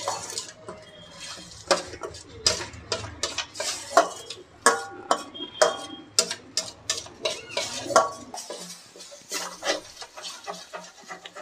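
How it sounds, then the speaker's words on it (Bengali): Spice masala frying in a pan while being stirred, a busy run of repeated scraping and clattering strokes of a utensil against the pan, close and steady, thinning out near the end. "আমার মশলা কষানো প্রায় হয়ে এসছে"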